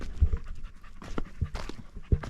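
A dog on a mountain trail hike in Southern Oregon pants rapidly and steadily at close range, the quick breathy rhythm continuing throughout.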